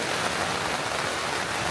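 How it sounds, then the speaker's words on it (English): Heavy rain pours down steadily on the Appalachian Trail as a dense, close hiss with no voices. "It's been pouring down rain nonstop."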